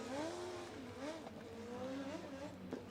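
Speedway sidecar bikes racing out of turn 4 at an international speedway meeting, engines whining and rising in pitch as they accelerate, loud and sustained with overlapping tones and some crowd and track noise.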